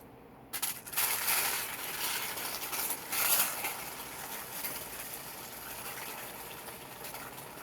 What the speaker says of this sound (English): So firstly, we will be rinsing her hair.